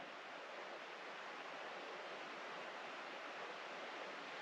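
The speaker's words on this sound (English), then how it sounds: "You can really hear the creek" A creek at the edge of a mountain cabin property keeps up a steady, even rushing hiss of flowing water at night, constant and unbroken, with nothing else on top.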